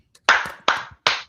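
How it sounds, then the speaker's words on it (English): A few people clap in three short bursts, each a sharp, close onset of hand claps that tapers off quickly, with a small stray clap at the end and no talking. "Clap it up for them"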